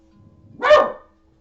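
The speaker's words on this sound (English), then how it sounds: "my dog was barking" A pet dog gives a single short bark, fairly close and clear, rising out of quiet room background.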